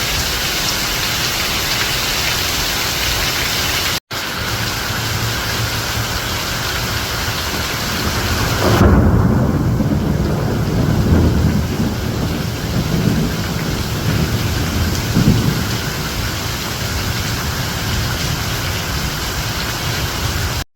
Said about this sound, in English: That's a lot of rain this fall.